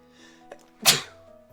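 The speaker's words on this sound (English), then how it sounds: "I'm gonna sneeze." A single sharp sneeze bursts out near the mic, preceded by a soft click and faint background hum.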